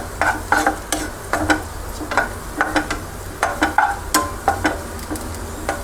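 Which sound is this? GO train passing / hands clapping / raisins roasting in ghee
raisins roasting in ghee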